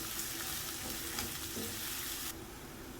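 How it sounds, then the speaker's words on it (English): Sliced onions stir-fry in a heated pan for a vegetable sabzi, giving a steady close sizzle with light scraping of stirring throughout, no talking. "Stir fry until the color begins to change"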